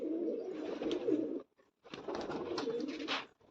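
A pigeon coos close by in two low, throaty phrases separated by a brief pause.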